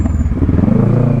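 A 2012 Kawasaki ER6N motorcycle with an aftermarket flute exhaust rides along, its engine giving a steady, close, raspy drone at a constant pace.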